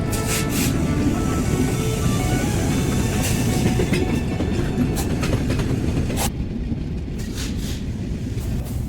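The Chilahati Express intercity train runs on the line from Chilahati to Dhaka in Bangladesh, recorded close by. Loud, continuous rolling rumble with rhythmic wheel clatter fills the whole stretch.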